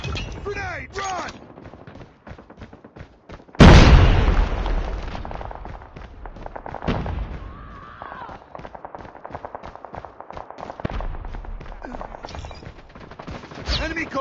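A sudden loud grenade blast in Call of Duty: Mobile, followed by sustained rapid gunfire and scattered shots from close range, with brief voices in the mix.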